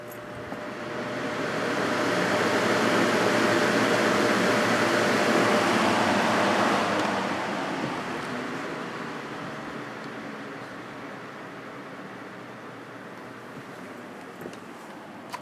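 A Lakewood Cool Operator seven-bladed box fan with a Macmillan motor, in need of cleaning, spins up on high setting, a steady broadband whoosh of moving air that swells over the first seconds, then eases slightly and holds, with no talking.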